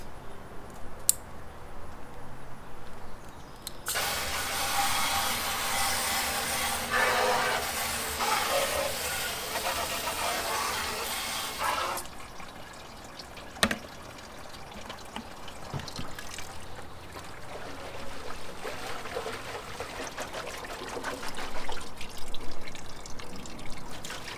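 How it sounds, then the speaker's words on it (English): Water is poured into a drained carburetor part of an old Honda CB750 chopper, making a steady loud hiss and splash for several seconds, then trickles and drips more quietly. "So I'm going to toss a little bit of water in here, maybe dislodge some stuff."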